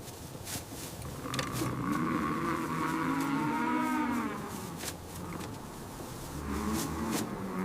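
Cattle on a ranch with an 800-head herd moo repeatedly, several long, drawn-out bellows rising and falling over a faint background rumble, at moderate distance with no talking.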